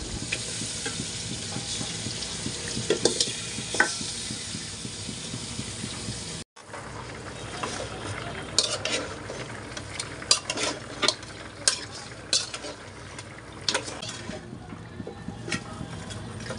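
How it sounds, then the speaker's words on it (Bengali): Beef pieces go into a pan of deeply browned fried onions for a beef curry, with a continuous loud sizzle and crackle interrupted by a brief cut, then steady frying with occasional stirring clatters. "পেঁয়াজগুলো কিন্তু একদম বেরেস্তা করে ভেজে তারপর মাংসগুলো এখন দিয়ে দিচ্ছি"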